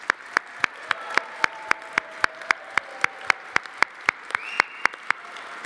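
Steady, evenly spaced claps ring out at a holiday gala, sharp and regular like a single pair of hands or a small group applauding in rhythm, with a faint tonal hum running underneath.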